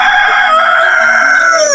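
A loud, close chicken crow from backyard-raised desi hens rings out continuously, a sustained drawn-out call with no talk over it.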